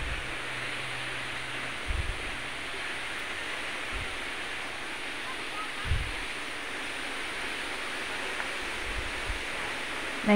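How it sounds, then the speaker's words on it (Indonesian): Telun Berasap waterfall in Kerinci, Jambi, a steady broadband roar of heavily falling water filling the whole clip, with a few soft low thumps, no talk. "ini adalah tempat terakhir di mana kita dapat menyaksikan keindahan dari air terjun Telun Berasap."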